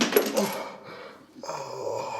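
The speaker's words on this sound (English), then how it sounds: "He picked up the dice pieces and threw them at Yudhishthir." Hard ivory dice pieces thrown and striking, heard as a quick bright clatter of small hard objects at the start, then a short lull before a tonal background resumes.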